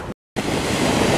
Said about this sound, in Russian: Слышите? Море волнуется.